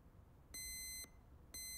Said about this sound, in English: It's the bell alarm.